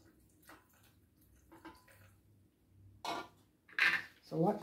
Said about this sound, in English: I'll be pouring some water in.